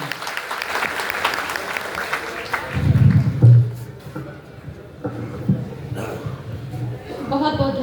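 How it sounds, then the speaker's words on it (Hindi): Audience applause at a Hindi stage event opening with an invocation to Maa Sharda, clapping fading out under the start of a voice speaking into a microphone. "जोरदार तालियां।"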